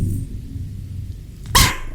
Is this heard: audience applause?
no